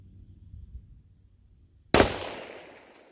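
A single sharp rifle crack bursts out loudly on an outdoor shooting range after a quiet stretch of low rumble, then rings off in a long fading tail.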